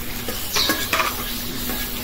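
Spices with ginger-garlic paste, coriander, cumin and green chillies sizzle in a pan while a spoon scrapes and clinks against the metal in several quick stirs.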